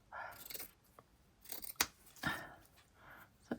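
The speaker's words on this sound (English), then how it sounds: "let's cut into it and see what we can do" Several crisp snips of scissors cutting through fabric, close and sharp, with pauses between cuts and no talking.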